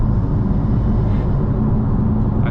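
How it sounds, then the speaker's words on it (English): A BMW M4 twin-turbo engine drones loud and close while driving, a dense continuous low rumble that holds steady for a couple of seconds with no voices over it. "you can really hear that turbo just"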